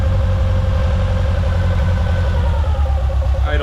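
Propane-fed 1.3 or 1.6 litre Suzuki Samurai engine idling steadily and loud up close, a low even rumble with a slight rise in revs near the end.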